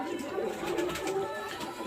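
Pigeons coo softly as they land after a long pigeon flying competition, low repeated calls close by over a murmur of background noise, with someone speaking faintly.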